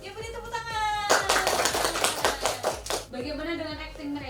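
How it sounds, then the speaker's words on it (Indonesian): Clapping in a classroom lesson, a burst of quick hand claps from a small group in the middle, framed by speech with a voice talking before and after. "Ya, beri tepuk tangan."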